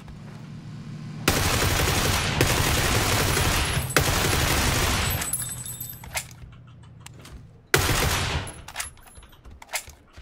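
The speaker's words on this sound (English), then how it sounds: "Somebody else is over here that was shooting at that guy." Rapid gunfire in PlayerUnknown's Battlegrounds: loud, dense bursts of automatic fire in two long stretches, a lull, then another sharp burst, with scattered single shots and rattles between.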